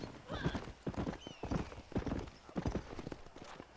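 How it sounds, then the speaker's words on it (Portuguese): Horse hooves clopping in the video game Red Dead Redemption, a rapid, steady galloping rhythm close up, with a whinny-like tone mixed into the continuous game soundscape. "Cavalo bom de fazer uma volta"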